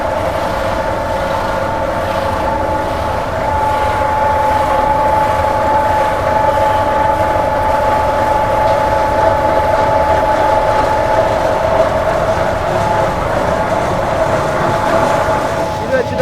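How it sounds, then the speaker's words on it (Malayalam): A rock-cutting machine with diamond tools slices through high rock beside the NH66 in Kozhikode. It gives off a steady, loud, even hum with a constant whine that runs throughout, and voices are faint beneath it. "ഈ പാറ കട്ട് ചെയ്ത് മാറ്റുന്നത് ഡയമണ്ട് ടൂൾസ്"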